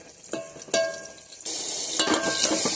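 Dal lentils frying hot in a pan, a few clinks and stirring scrapes, then a steady loud sizzle rising up close.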